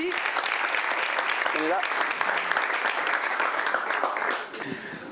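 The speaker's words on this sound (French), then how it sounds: "Voilà, on l'applaudit." Dense, sustained applause fills a studio debate show as a participant is welcomed, loud and continuous for several seconds before tapering off, with voices talking over the clapping.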